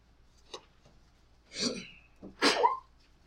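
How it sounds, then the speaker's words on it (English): A small, soft sneeze in a class lecture with a quick breathy intake before it, followed by another light burst, isolated against near silence. "Such a cute sneeze."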